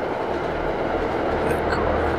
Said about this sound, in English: I laugh as the train passes by.